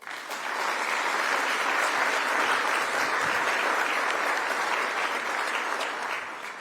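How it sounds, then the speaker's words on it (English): Steady applause from an audience at a groundbreaking ceremony for a new airport runway at RDU, a dense wash of clapping that holds at full strength for several seconds before tapering slightly at the end. "please give everybody a round of applause"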